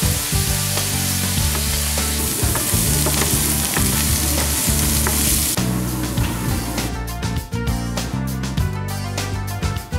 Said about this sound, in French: On va prendre une boîte d'ananas en morceaux que l'on va faire caraméliser avec un peu de cassonade.